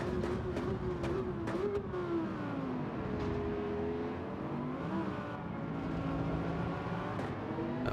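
A racing video game car engine roars continuously and close, revving up and down with a steady high whine as nitrous boost is used, loud throughout with no pauses.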